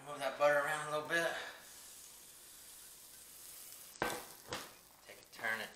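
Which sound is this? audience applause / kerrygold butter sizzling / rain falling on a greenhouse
kerrygold butter sizzling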